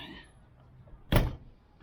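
An RV entry door, just reinstalled, swings shut with a single solid thunk after a few soft handling noises, close and fairly loud in an otherwise quiet space.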